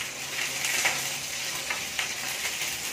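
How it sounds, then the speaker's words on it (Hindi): Green chilies, curry leaves and onion sizzling in hot oil after mustard and cumin seeds have popped, a steady loud hiss with occasional stirring scrapes, no talking. "इसके बाद हम डालेंगे हरी मिर्च और कड़ी पत्ता और ये प्याज"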